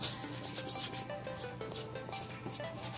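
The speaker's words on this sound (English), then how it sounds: "I'm gonna go ahead and start scraping" Rhythmic back-and-forth scraping and scrubbing on a glass stove top, quick repeated rubbing strokes, close and fairly quiet, with no talking.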